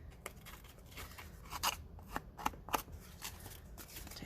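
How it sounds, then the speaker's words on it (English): Scissors rasp and scrape along the edges of a handmade paper card, giving a series of short, crisp snips and scratchy strokes at close range in an otherwise quiet room. "I actually took my scissors after I was done and just distressed the edges"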